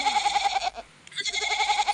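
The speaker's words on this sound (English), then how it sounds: "Goat." Goat bleating in repeated wavering calls, loud and close, with a short quiet gap near the middle before the bleats resume.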